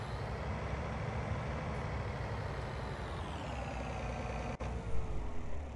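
A steady, loud farm vehicle engine drone in Farming Simulator 19 runs throughout with a low rumble and a faint whine, briefly interrupted near the end.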